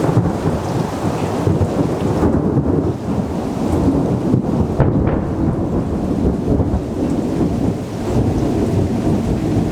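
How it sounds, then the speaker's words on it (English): Deep rumbling thunder rolls through steady heavy rain, with booms swelling and fading over a continuous downpour. "the sound of the booming thunder, which you're hearing"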